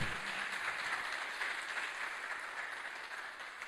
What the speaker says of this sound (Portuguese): Irmãos, pode aplaudir.